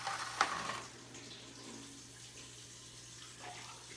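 Water is poured into a glass, running and trickling steadily for a few seconds, close by, with a brief clink near the start and a low hum underneath.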